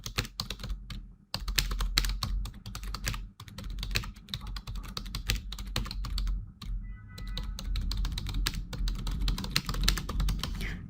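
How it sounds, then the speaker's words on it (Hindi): Fast, continuous clatter of typing on a computer keyboard, close and clear, with a few short pauses between bursts of keystrokes. "टाइपिंग करके दिखा दिया मैंने आपको।"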